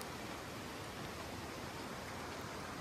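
Steady rain falls in Idaho's Clearwater mountains, an even, soft hiss of drops heard alone and faintly at a distance.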